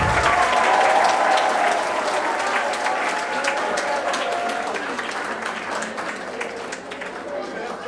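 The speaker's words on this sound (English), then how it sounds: "let's give him a round of applause" A school audience at an International Children's Book Day event applauds a 12-year-old author, with dense, sustained clapping throughout and voices mixed in underneath.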